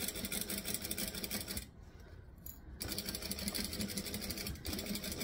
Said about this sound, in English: And we're going to just sew the whole way up the edge.